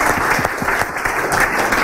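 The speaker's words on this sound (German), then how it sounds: "Also zuerst mal einen Applaus," A lecture audience claps after a talk about students mapping their hometown with OpenStreetMap. The applause is dense, steady and loud throughout, with no speech over it.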